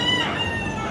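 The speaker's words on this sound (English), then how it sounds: "Some chickens." Chickens and a rooster in Davao City on Mindanao in the Philippines, a brief steady burst of clucking and crowing that sounds close and fairly loud, with no voices present.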